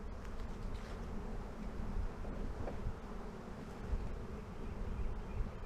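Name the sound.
swarm of honey bees buzzing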